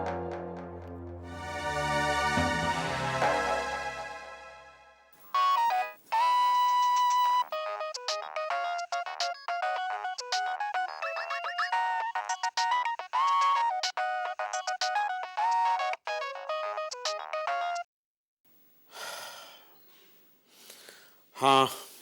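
A phone rings out with a melodic ringtone for several seconds while a call is placed, loud and close, with a brief speaking voice before it and a voice answering at the end.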